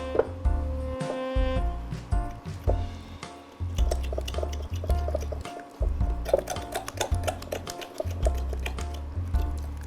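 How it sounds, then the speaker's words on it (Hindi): Water poured into a thick millet flour batter in a bowl, with wet sloshing, squelching stirring and occasional clinks of a spoon against the bowl, continuous and close over low background music. "तो ये हम इसमें पानी डाल लेते हैं और बिल्कुल गाढ़ा सा एक बैटर बना लेंगे।"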